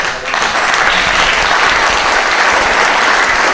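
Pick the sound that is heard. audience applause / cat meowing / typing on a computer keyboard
audience applause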